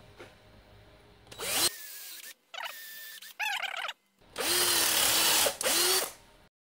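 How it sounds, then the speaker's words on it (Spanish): A power drill bores holes into a workpiece clamped in a forged Bellota 6700 150 bench vise, with several loud whirring, grinding bursts separated by short pauses and squealing tones. "Por supuesto, agujerear piezas."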